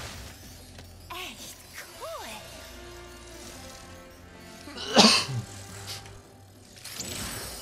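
A person coughs once sharply and loudly mid-clip while playing Ratchet & Clank: Rift Apart on PlayStation 5, amid quieter game sounds.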